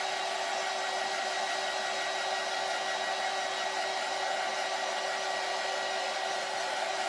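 A hair dryer blows a steady, even whir as it dries paint on a bunny planter, running continuously at a moderate level with no voices.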